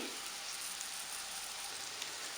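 Spices sautéing in a pan for kurma curry give a steady, even sizzle with small crackles, heard close up with no voices over it.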